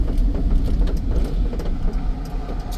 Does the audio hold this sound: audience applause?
no